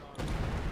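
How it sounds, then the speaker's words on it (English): A Priest howitzer artillery barrage in Company of Heroes 2 opens with a sudden loud booming burst after a brief quiet moment, then dense rumbling continues through the rest of the short moment. "There goes the first artillery barrage."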